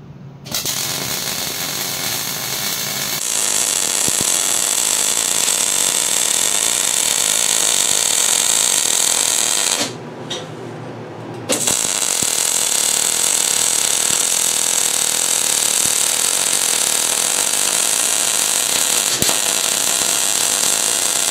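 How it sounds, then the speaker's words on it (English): Welding along the steel seams where the motor plate meets the side plate of a 212cc power pack bracket, a loud, steady crackling hiss held close that stops briefly partway through, then resumes for a second long weld. "We're gonna run two welds right along the seams, the corner of the motor plate and the side plate."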